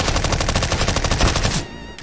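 MP5 submachine gun firing in Counter-Strike: Global Offensive, a rapid, even burst of loud shots lasting about a second and a half before cutting off.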